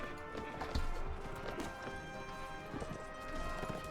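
A riderless horse galloping across a tournament ground in the game Mount & Blade: Warband, its hoofbeats clattering close and steady over a busy mix of crowd and battle noise for about four seconds.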